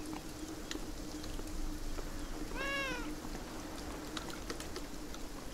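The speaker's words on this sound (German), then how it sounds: "Ja, da ist der Kater." A cat meows once in the video game Beyond Eyes, a single clear, rising-falling call standing out midway over a steady, hissing ambient background.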